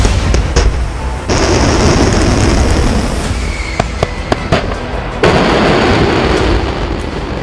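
A military rocket launch roars loud and close, a sustained broadband rush punctuated by sharp cracks and pops, with the blast surging again toward the end.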